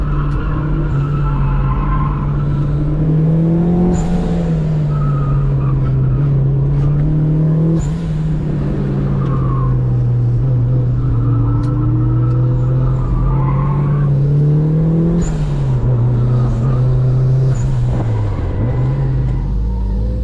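Budget turbocharged Mazda Miata with an open differential driven hard on a race track, its engine droning loud and steady from inside the car while pitch rises and falls through gear changes, with faint tire noise and no talking.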